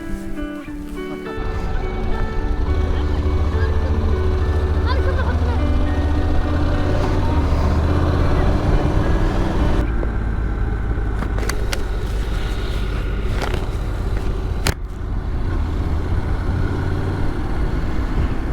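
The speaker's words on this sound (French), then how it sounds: "on va reprendre les motos." Motorcycles on a road trip through Algeria give a loud, steady engine drone that holds throughout, with some wind and broadband rumble as they get under way and ride off.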